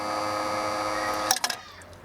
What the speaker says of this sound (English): And if I lift that up, you'll hear, aha, and it's pumping out.